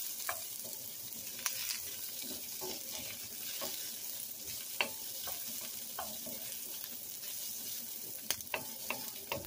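Snow peas and chopped garlic sizzle and fry in a pan with occasional stirring clicks and scrapes, a steady moderate hiss running throughout with no talking.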